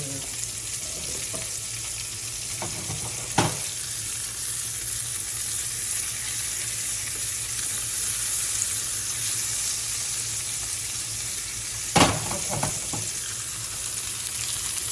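Ground turkey and sausage meatballs sizzling in a pan of oil, a steady close frying hiss with two sharp clatters of a utensil against the pan.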